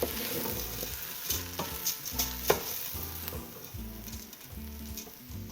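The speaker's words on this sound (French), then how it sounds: "nous mélange bien et nous laisse le riz coloré" Rice stirred and fried in a pot while making a Réunion zembrocal with potatoes, a steady sizzle with repeated scraping strokes of the spoon, close and fairly loud, no talk.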